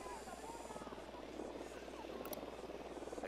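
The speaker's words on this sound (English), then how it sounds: "Deploying drone." A reconnaissance drone deployed in the Ghost Recon Wildlands video game whirs steadily like a small helicopter rotor, a continuous buzzing drone with a faint fluttering pulse behind it.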